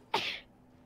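A single sharp sneeze, close and fairly loud, fading quickly into quiet.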